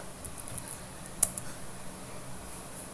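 Soft keystrokes on a computer keyboard while a network device command is entered, quiet scattered taps with one sharper click near the middle, no talking.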